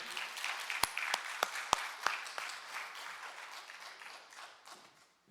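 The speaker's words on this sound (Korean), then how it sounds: "우리 박수 한번 하세요" A church congregation claps briefly during a Methodist service, a few sharp individual claps rising out of scattered applause that tapers off and fades to quiet within a few seconds.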